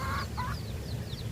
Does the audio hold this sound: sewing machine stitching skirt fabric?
no